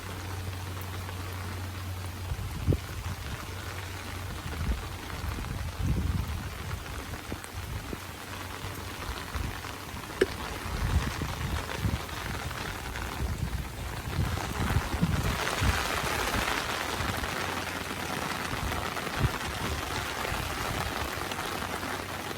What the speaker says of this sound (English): That's the raindrops falling on my umbrella.